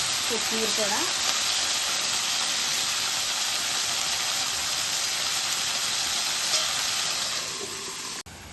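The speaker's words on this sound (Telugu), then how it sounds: "ఇప్పుడు మనం కొత్తిమీర వేసుకుందాం. ఇది కూడా నూనెలో వేసుకోవాలి." Coriander leaves dropped into hot oil with green chillies for kothimera pachadi, a loud continuous sizzle and hiss up close that fades slightly before stopping abruptly near the end.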